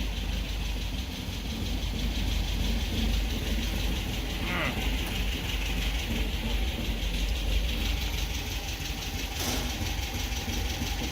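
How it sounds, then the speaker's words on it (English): A running 1974.5 MG MGB engine idles steadily close by, with a loose oil pan adding a faint metallic rattle over the even engine drone, and a couple of brief clanks. "Pan's rattling in there though."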